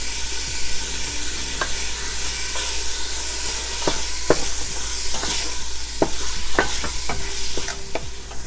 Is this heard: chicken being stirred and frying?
yes